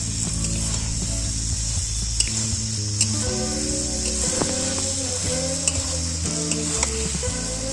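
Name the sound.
spice paste with potato and pointed gourd frying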